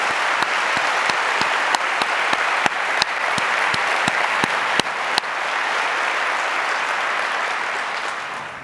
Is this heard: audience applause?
yes